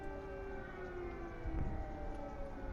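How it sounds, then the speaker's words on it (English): A steady, droning air raid siren holds its tone over a Ukrainian city during the Russian invasion, with a low rumble swelling briefly midway. "We're hearing air raid sirens over the city here"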